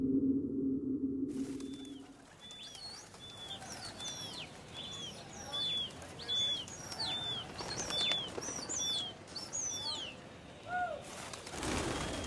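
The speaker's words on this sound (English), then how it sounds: "The breeders fly their pigeons from the roofs and try to lure the birds of other flocks to join their own." Flocks of breeders' pigeons take off from Delhi rooftops, their wings flapping in soft fluttering bursts, with many faint chirps scattered through the flight and a burst of noise at the end.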